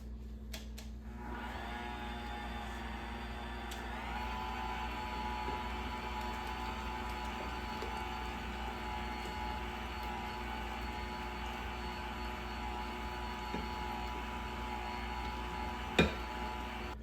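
An electric mixer runs steadily on cheesecake filling as eggs are slowly added, giving a continuous, even motor whir with a slight shift in pitch early on and a brief knock near the end.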